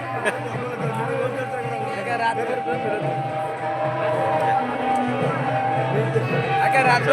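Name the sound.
crowd at a village fair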